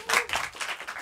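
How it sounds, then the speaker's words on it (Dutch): An audience at a live village birthday party in Noardewyn claps for a performer named Jamila, a short, lively burst of applause that lasts about a second. "Applaus voor Jamila"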